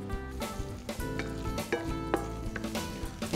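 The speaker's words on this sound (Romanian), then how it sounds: "aruncăm usturoiul" Minced garlic sizzles in melted butter in a frying pan, a steady close crackle broken by a few soft stirring clinks and scrapes.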